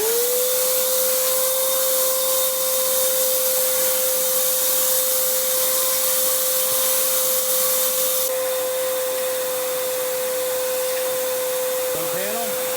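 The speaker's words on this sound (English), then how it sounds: "All right, shop vac time." A shop vac runs continuously with a steady whine while cleaning dust out of an eMachines T2240 desktop computer, loud and close throughout with no talking, and a short knock near the end.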